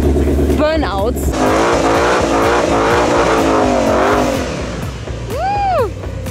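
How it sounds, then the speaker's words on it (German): A new Shelby GT500 Mustang does burnouts at an event, its loud V8 engine roaring and revving while tires squeal in rising and falling whines near the end. "Burnouts."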